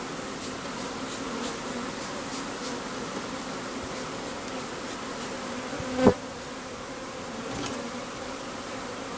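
A swarm of bees buzzes steadily around a tree, a continuous low droning hum with faint individual passes, one bee briefly flying close and loud midway, no talking.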